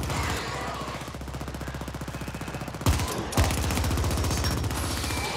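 SMG gunfire in The Ascent, a cyberpunk action video game: a long rapid burst of automatic fire, loud and steady, briefly broken by two sharp impacts before the rattling continues.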